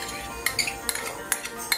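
Meat is added to a chicken noodle stir fry with hoisin sauce, giving a short series of light metallic clinks and scrapes from utensils against a pan over a steady background hiss.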